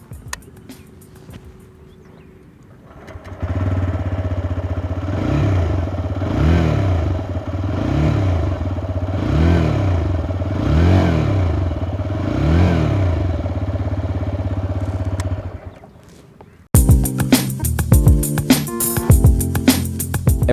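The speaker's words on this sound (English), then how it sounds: "Now for a 125cc motorcycle, the TVS Raider has quite a throaty exhaust." A TVS Raider 125cc motorcycle with a throaty exhaust revs repeatedly, loud and close, in a steady series of rising and falling blips over a sustained idle rumble, ending with an abrupt cut to other noise.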